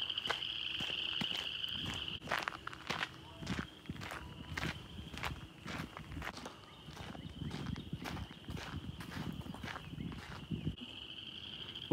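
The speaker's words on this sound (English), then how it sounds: "Pretty sure it's mating season for frogs. They're so loud." Frogs call during mating season at DePauw Nature Park, a steady high-pitched chorus that runs almost unbroken beneath footsteps crunching along a hiking trail.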